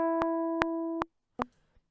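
Four loud, high-velocity piano-roll MIDI notes played back in Logic, each a sharp struck tone over a sustained chord, with the first three evenly spaced, a short silence, then a final note.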